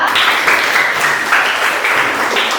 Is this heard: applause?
yes